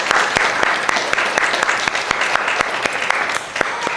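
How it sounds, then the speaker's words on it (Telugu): An audience at a Christmas charity gathering claps together, a dense, close burst of many hands that stays full and lively for a few seconds with no voices over it. "అందరూ ఒకసారి చప్పట్లు పట్టేద్దామా అందరికీ?"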